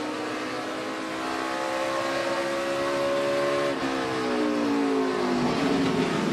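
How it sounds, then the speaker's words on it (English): A NASCAR Nationwide Series race car at Mid-Ohio downshifts into a difficult off-camber right-hand corner, its loud engine note stepping down in pitch through several gear changes, steady and close throughout. "Downshifting as he makes the right-hander."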